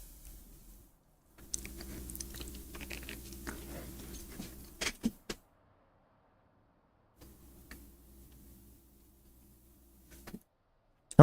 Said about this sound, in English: I can hear myself chewing, though